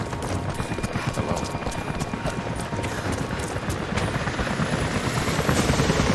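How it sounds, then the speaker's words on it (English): Helicopter rotors thump in a rapid, steady chop in the video game Rise of the Tomb Raider, loud and close, growing slightly stronger toward the end as the aircraft approaches. "Jacob, helicopters are headed your way."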